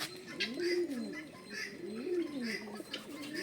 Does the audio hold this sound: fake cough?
no